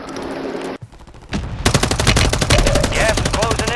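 Rapid automatic gunfire in a battle royale video game, a loud sustained burst of rattling shots after a brief quiet gap, with a single sharp crack before the barrage begins.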